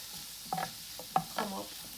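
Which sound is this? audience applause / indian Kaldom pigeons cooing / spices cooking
spices cooking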